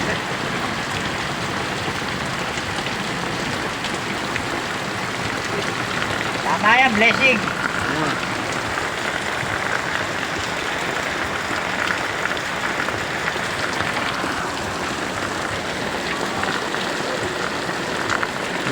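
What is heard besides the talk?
rain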